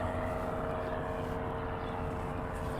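A propeller aircraft flies overhead at an air force helicopter event, giving a steady, even engine drone with a constant tonal hum that holds at moderate level throughout without breaks.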